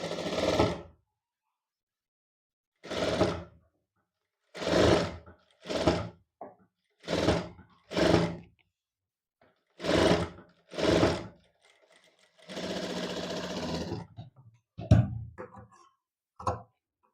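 A sewing machine stitches a strip along the neck edge of a chemise. It runs in about nine short, even bursts separated by silences, then one longer steady run, all close and alone with no talk.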